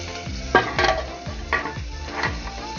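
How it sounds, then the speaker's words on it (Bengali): Potatoes sizzle and fry in a pan while a utensil stirs them, giving a steady close crackle broken by several scraping strokes, with no talking. "এখানে আমার আলু ভাজা হচ্ছে"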